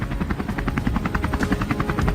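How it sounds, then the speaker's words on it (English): Helicopter rotor blades thump in a rapid, steady beat with an engine drone underneath, loud and fairly close. "The sound of helicopter blades cuts through the air"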